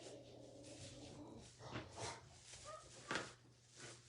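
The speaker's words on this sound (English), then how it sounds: "It's my dog. He tells me every day when the mailman comes." A dog barks at the mail carrier in short, separate bursts spread over a few seconds, heard indoors at moderate level over a steady low hum.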